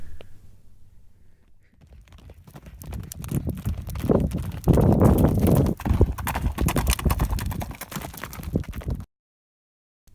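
Horses clip-clop in Mongolia, a group riding together over the ground in a steady, uneven patter of hoofbeats that grows louder and nearer midway, with an occasional whinny and no talk.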